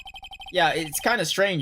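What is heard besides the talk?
phone ringtone from Phoenix Wright Ace Attorney video game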